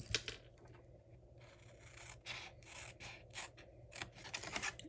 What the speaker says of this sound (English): Yeah, we can cut this, not in half, but just a little bit.